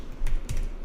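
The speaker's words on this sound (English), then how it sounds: "you're supposed to run this file by typing in the code like" Two or three crisp clacks from a computer keyboard as code is typed, loud and close, with a brief pause between strokes and no voices.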